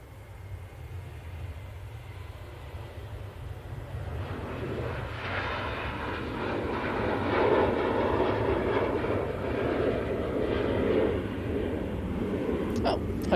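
A jet airliner takes off from Manchester Airport bound for Turin, its engine roar building from a low rumble to a loud, broad sustained thunder midway before easing slightly, with voices faintly underneath.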